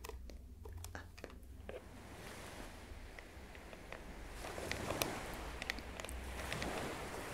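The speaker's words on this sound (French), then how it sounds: "La mer, très bien, c'était le son de la mer." Ocean waves wash in a steady broadband roar that swells and recedes, with crunchy, crackling textures on top and a fuller surge near the end; no voices are heard.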